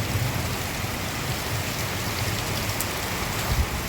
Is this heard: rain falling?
yes